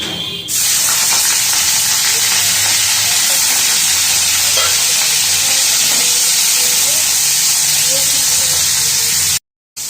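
Chicken meat sizzling and frying in hot oil, a loud steady crackling hiss that starts abruptly and runs continuously, cutting off briefly near the end.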